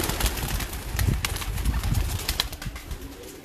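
Pigeons perched for the evening give soft, repeated low coos in irregular bursts, close by, with faint rustling and possible wing flutters in between.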